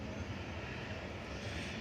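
A Ryanair Boeing 737-800 arriving from Dublin at Manchester Airport gives a soft, steady engine rumble in the background, with light talk over it.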